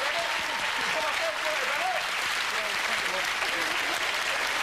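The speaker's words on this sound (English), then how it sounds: "Give them a nice round of applause." Studio audience applause on a British television game show, a loud, continuous roar of many hands clapping at full volume with no gaps, crowd noise blended in.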